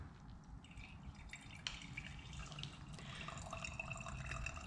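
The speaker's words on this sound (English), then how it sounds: "I just want to drain off a little bit of this gas, just in case there's some crud" Gasoline draining from a pressure washer's gas line into a container gives faint, irregular drips and trickling against a quiet room background, with a few small clicks and patters.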